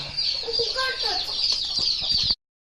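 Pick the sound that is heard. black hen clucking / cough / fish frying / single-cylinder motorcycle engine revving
black hen clucking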